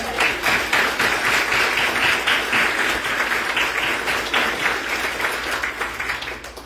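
A church audience applauds in a steady, dense wash of clapping that stays loud throughout and tapers slightly toward the end, with no distinct voices.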